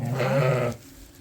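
Sheep bleating at lambing time on a farm: one loud, close, drawn-out bleat with a wavering pitch, lasting under a second and then breaking off into quiet.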